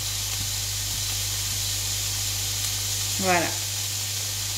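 Food simmers quietly in a pot on a stovetop over lowered heat, giving a steady soft hiss and bubbling throughout. A voice speaks one brief word over it.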